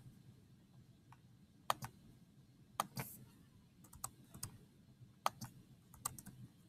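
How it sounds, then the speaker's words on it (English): Computer keyboard typing, quick irregular clusters of key clicks alone in a quiet room, light and fairly close, with a few louder isolated key strikes. "Let me go type all that in."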